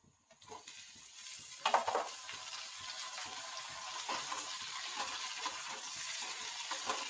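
Chopped tomato drops into a pan of fried potatoes, setting off a steady sizzle with a brief louder burst near the start and soft stirring scrapes, heard close and alone without any voices.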